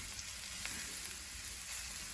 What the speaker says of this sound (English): So you start hearing that sizzle.